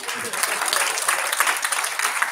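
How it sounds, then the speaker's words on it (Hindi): Audience applause at a Hindi Diwas poetry recital, steady broadband clapping from many hands filling the whole stretch at an even level. "बजा दो ताली एक बार।"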